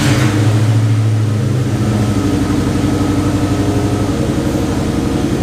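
A 1996–98 Ford Mustang GT V8, just fitted with a swapped PI intake manifold, idles steadily and loudly up close, with a low, even rumble throughout.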